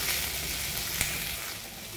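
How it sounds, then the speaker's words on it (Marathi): Onion, tomato, ginger and garlic sauté in a pan, giving a steady, close sizzle that holds evenly throughout with one faint tap near the middle. "हे पण आपल्याला परतून घ्यायचं आहे 1-2 मिनिटासाठी"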